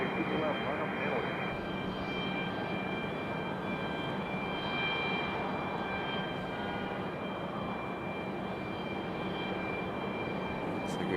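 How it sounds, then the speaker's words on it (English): American Airlines Airbus A319 taxiing at Raleigh-Durham International Airport, a steady jet engine drone with a constant high whine, continuous and even, under faint radio chatter. "Looks like we got another American on the way up the hill here. The A319. Moving slowly up the hill."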